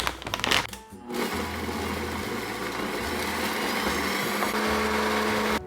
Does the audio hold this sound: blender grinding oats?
yes